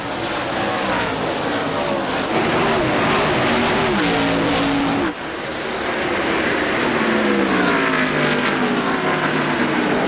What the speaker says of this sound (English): And Chad Little drove that car in there almost like Ryan Newman did on the 17 of Matt Kenseth just a moment ago